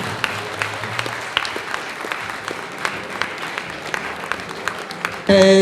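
An audience claps at a book launch, with dense, sustained applause that stays fairly even throughout.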